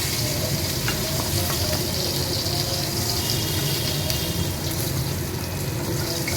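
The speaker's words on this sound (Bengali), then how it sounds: "এইভাবে সব কটা মাছ ভেজে নেব" Fish pieces frying in a pan for a masala fish kalia, a constant dense hiss and crackle of hot oil, loud and close, with faint stirring or scraping and no talking.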